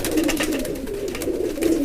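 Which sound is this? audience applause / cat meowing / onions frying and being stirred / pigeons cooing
pigeons cooing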